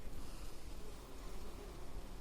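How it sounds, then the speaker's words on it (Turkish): Honeybees from a hive with a superseded queen, buzzing softly and continuously in a low, dense drone as a frame is held out in the open. "Bu ara geçen senenin arısı."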